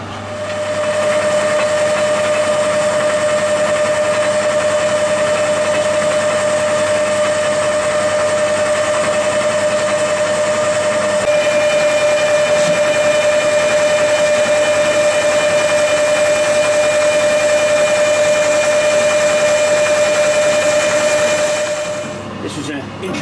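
A 1.5-inch drill bores into metal for a hydraulic ram extension, a loud, steady machining whine with a sustained tonal hum running for over twenty seconds before winding down.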